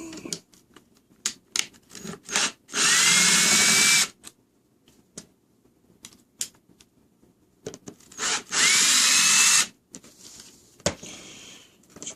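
A power drill backs screws out of a Yamaha YTA-95 guitar amp cabinet in two loud, close bursts of a few seconds each, separated by clicks, taps and handling knocks.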